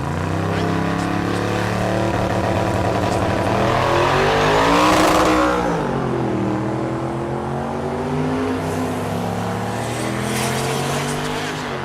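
Chevelle drag car with a turbocharged LS engine making a run at a drag strip: a loud, rising engine howl that peaks mid-clip as it passes close, then settles into a steady, more distant drone.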